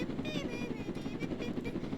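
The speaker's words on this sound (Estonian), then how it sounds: "Mina võtsin siin helikopteri." A video-game helicopter drones with a steady rotor whir throughout, moderately loud, with a person talking over it.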